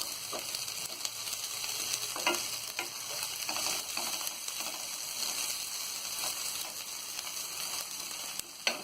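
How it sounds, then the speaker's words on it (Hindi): Green chillies fry with fried onions in a pan for baingan bharta, a dense continuous sizzle with frequent stirring scrapes throughout, close and fairly loud with no speech. "अब इसमें हम डालेंगे हरी मिर्च। इसे हम थोड़ा सा तल लेंगे।"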